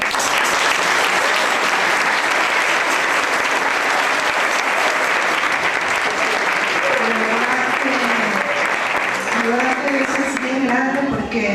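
Loud, sustained applause from an audience, steady clapping filling the whole stretch, with a few voices and cheers rising near the end.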